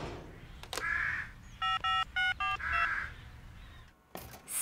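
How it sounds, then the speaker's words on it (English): In a children's cartoon about a builder, a telephone is dialled: a quick series of electronic key tones in small bursts, with brief squawky sounds around them and short thumps near the end. "I've just got to phone Wendy first."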